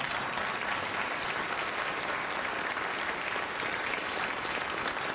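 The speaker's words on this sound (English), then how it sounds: "that's your first round of applause for anything political" Studio audience applause at a late-night talk show, a steady, dense clapping that holds loud and unbroken from start to finish with no talk over it.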